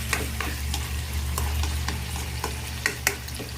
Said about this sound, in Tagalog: Atin na siyang ginigisang mabuti.